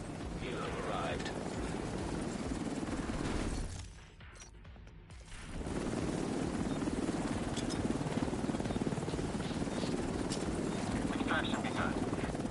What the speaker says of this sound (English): Helo arrived.